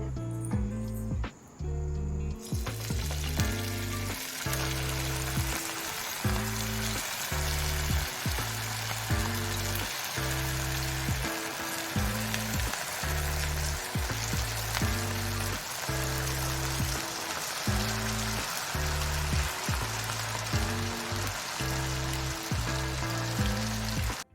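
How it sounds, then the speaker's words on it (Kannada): Cauliflower florets for gobi Manchurian deep-fry in hot oil on a stove, a steady loud sizzle and bubbling crackle that runs continuously, close up, with no talking. "ಸ್ಟವ್ ಮೇಲೆ ಎಣ್ಣೆ ಇಟ್ಕೊಂಡು ಕಾಯಿಸ್ಕೊಂಡಿದ್ದೀವಿ. ಗೋಬಿನ ತೇಲಿಸ್ಕೊಳ್ಳೋಣ."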